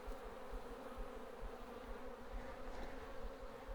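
Honeybees hum steadily around an open beehive at a homestead, a soft, continuous droning buzz close by with no voices.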